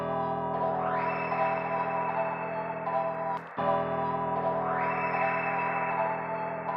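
Ambient trap synth melody built in FL Studio and drenched in heavy reverb, sustaining as a dense washed-out pad with bright swelling tones; it cuts out briefly midway, then the same swell returns, loud and steady with no talking.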